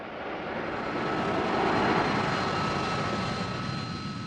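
Harrier jump jet engine producing a steady, loud, broadband roar with a faint high whine, swelling slightly in the middle and holding constant throughout, no voices.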